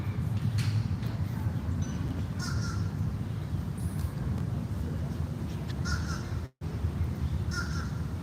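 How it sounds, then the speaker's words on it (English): Crows caw in short bursts across a grassy park, the calls moderately distant over a steady low outdoor rumble with faint voices in the background. "I hope you can hear the birds."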